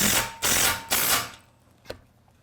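A 1/2-inch wrench ratchets as it drives bolts into a wheel assembly, giving three loud close ratcheting strokes in quick succession, followed by a single faint click.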